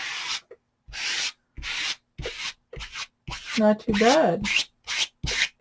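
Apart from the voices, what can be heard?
scraping Odicoat onto a hat with a card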